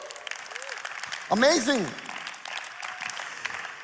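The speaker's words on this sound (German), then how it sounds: "lasst uns doch diesen Leuten online, wo auch immer, einen Applaus geben" A church congregation applauds in a sustained wash of clapping, with a loud whooping cheer and an excited exclamation rising over it midway.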